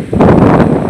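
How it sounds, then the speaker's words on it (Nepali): Strong wind gusting across an open hilltop ridge, a steady broad roar buffeting the microphone throughout, loud and close with no voices. "यहाँ चाहिँ लास्ट हावा चल्छ"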